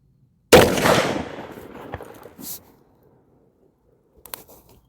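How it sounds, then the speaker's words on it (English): A single loud, close rifle shot from a CVA muzzleloader loaded with a 120 grain Firestick and a 270 grain bullet, fired outdoors with a sharp blast that rolls off into a fading echo, followed by faint clicks. "third and final shot of the 270 grain bore lock with 120 grain Firestick"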